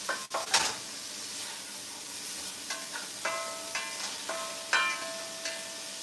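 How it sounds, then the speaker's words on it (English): Garlic and onion being stirred in a pot for chili soup, with scattered scraping and clinking of the utensil against the pot over a low sizzle, close and moderately quiet. "now I'm going to steam my garlic and my onion around. Stir it around."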